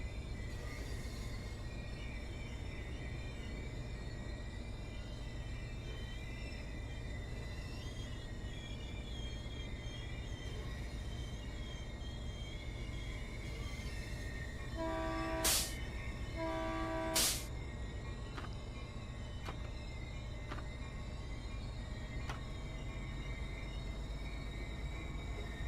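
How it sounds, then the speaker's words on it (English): A commuter train in a railway simulation game departs with a steady, low rolling rumble. Two horn blasts sound midway, followed by a few faint clicks. "That's an adequate commuter departure."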